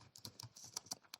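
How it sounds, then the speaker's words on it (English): Keys on a computer keyboard are struck in a quick, irregular burst of light clicks, close and quiet, with no one speaking. "by typing the order by amount"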